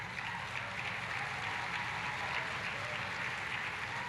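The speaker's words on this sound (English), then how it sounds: "Only mild clapping for that." Crowd at an outdoor political rally in Arizona claps mildly: a distant, even patter of many hands with a low rumble beneath, steady for a few seconds and without talk on top.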